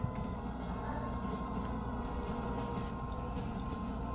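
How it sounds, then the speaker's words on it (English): A bullet train runs steadily in the Cars high school cartoon, a continuous loud rumble and rail roar lasting throughout with no pauses. "welcome aboard the bullet train."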